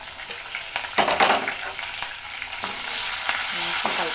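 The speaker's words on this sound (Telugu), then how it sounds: "ఇప్పుడు ఈ ఆనియన్ గోల్డెన్ కలర్ వచ్చే వరకు వేయించుకోవాలన్నమాట" Onions, green chilli and curry leaves fry in oil in a pan for a chicken curry, a continuous sizzle broken by stirring scrapes and clatters, close and fairly loud with no talking.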